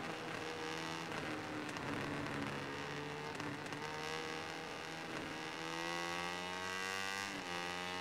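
Racing motorcycle engines in the video game MotoGP17 scream at high revs, with rising and falling pitch sweeps as bikes shift gears and pass. The sound is loud and continuous, with no speech.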